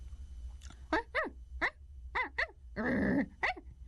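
A person vocally imitates a dog barking, giving a string of short, sharp bark-like yelps and one longer growling bark, loud and close with no other talk.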